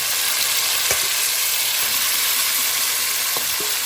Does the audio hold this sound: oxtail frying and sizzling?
yes